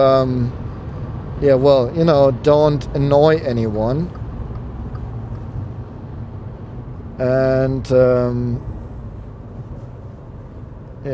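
Steady low cabin drone of engine and wind noise inside a 2016 Volkswagen up! while driving, continuous beneath someone talking at the start and again near the end, with a quieter stretch of plain road hum in between.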